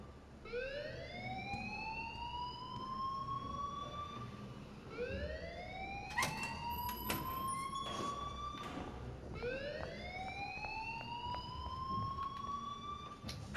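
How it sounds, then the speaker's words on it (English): A school alarm in the video game Life is Strange, a rising, wailing electronic tone that repeats three times with some clicks and clatter beneath it. "please turn off that alarm since that's your job"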